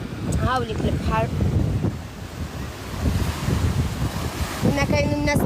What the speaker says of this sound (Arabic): هاوليك البحر.